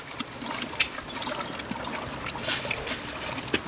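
Water poured into a cooking pot while preparing tamarind rasam for a home Mandala Pooja offering: a continuous trickling, splashing stream with small bright splashes throughout, moderately close, no voices.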